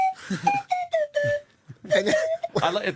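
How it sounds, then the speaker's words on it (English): A slide whistle plays bright, pitch-gliding toots that swoop up and down in short bursts, with voices talking and laughing toward the end. "it's a slidey whistle"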